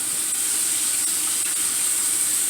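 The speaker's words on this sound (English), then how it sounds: "you can hear it frying in there" A steady, close hiss of food frying in a pot, constant and unbroken for the whole stretch with no voices.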